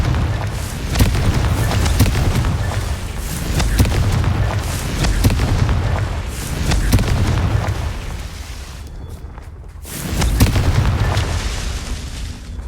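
A Confringo spell explodes repeatedly in the Hogwarts Legacy video game, with loud, deep booms that arrive in waves and fade briefly before erupting again.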